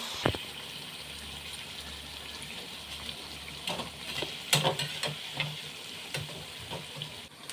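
Bonda batter fries in a shallow film of oil with a faint, soft sizzle, punctuated by occasional clinks and scrapes of a utensil against the pan, with no talking.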